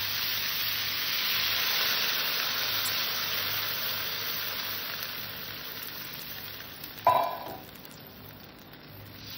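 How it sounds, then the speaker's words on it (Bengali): Water poured into a bottle gourd and potato curry that is already sizzling in the pan. A steady close hiss runs throughout, then a sharp louder splash and crackle near the end quickly fades. "লাউ আলুটা কষা হয়ে গেছে, এখানে আমি জল দিয়ে দেবো।"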